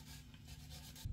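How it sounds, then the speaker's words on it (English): Soft, steady rubbing of sandpaper over a violin's finish that was damaged by hand sanitizer, lasting about a second, close and quiet, with a slightly firmer stroke at the end. "I'm comfortable to actually sand over this other area as well"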